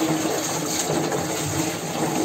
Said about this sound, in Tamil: தண்ணி தொட்டி நாங்க தண்ணி பிடிச்சிட்டு இருக்கோம்.